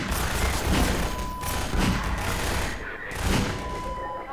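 A Magnum revolver fires in Half-Life 2 with several heavy, booming shots spaced about a second apart, each a loud, close blast that trails into reverberant game ambience.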